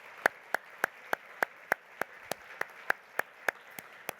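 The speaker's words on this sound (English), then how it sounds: "If we could give them a quick round of applause." Hands clap at an awareness event in a slow, evenly spaced beat, about three crisp, distinct claps per second, close and steady against a quiet background.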